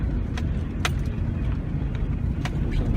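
Car driving along a forest road, a steady low rumble of tires and engine throughout with a few faint light clinks, no voices.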